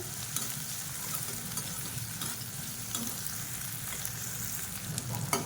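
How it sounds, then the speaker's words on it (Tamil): Turkey berries (sundakkai) sauté in oil in a pan, giving a continuous soft sizzle and crackle with occasional light stirring clicks, close and without talk. "சுண்டைக்காய் எண்ணெயில் நல்லா வதக்கிட்டோம்னா கசப்பு தெரியாது"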